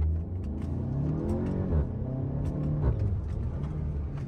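Volkswagen Golf 7 GTI cruising and accelerating, heard from inside the cabin as a steady, close low engine rumble with mild rises in revs and road noise, no talking.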